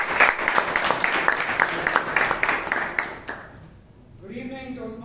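A Toastmasters meeting audience gives a short burst of clapping, rhythmic and fairly close, which fades out after a few seconds before a voice begins speaking.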